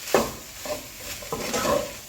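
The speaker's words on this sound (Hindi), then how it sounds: "और सबसे एंड पर इसमें मैं 2 टेबलस्पून लेमन जूस डालूंगी। मिक्स करूंगी।" A spoon stirs through spiced potato filling in a pan as lemon juice is mixed in, producing soft scraping strokes with light sizzle, several short passes close by.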